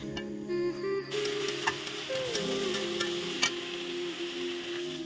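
Potato and eggplant pieces frying in a wok, a continuous sizzle with occasional stirring clicks and scrapes, alongside faint steady tonal sounds in the background.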